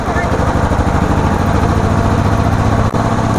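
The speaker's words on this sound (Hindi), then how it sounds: "मेरी बुलेट बाइक भी चल रही है" A Bullet motorcycle engine runs steadily at idle, a constant low rumbling chug throughout with no change in pace.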